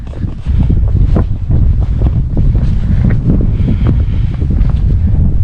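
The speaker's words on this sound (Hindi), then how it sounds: "हवा चल रही है" Strong wind at Khaliya Top in Munsyari buffets the microphone in loud, gusty, continuous rushes with low roaring swells and no voices.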